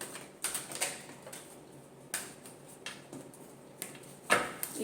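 Tarot cards being shuffled, a series of quiet, close papery flicks and taps in irregular bursts with one sharper snap near the end.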